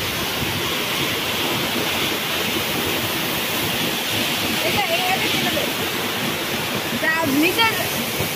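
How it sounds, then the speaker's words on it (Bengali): A waterfall with a very cold stream in Phuentsholing, Bhutan roars as a steady, dense wash of water noise throughout, with brief faint voices and a small squeak near the end. "আমরা এখন ওয়াটারফলে আছি, খুবই ঠান্ডা স্রোত, খুবই ঠান্ডা স্রোত এই ওয়াটারফল।"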